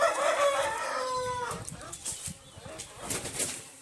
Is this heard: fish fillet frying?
no